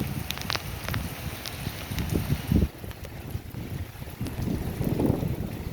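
Gusty storm wind buffets the microphone outdoors beside flooded fields and a house, a continuous roar with surges and rustling.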